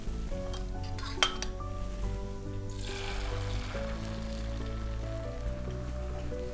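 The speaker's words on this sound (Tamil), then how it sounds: "நல்லா சூடானதுக்கப்புறம் இந்த அடித்த முட்டையை அதில் சேர்த்துக்கலாம்." Beaten egg poured into hot butter in a frying pan for a mushroom cheese omelette, a soft steady sizzle with a clink of utensils against the pan near the start, close and moderately quiet, with no talk.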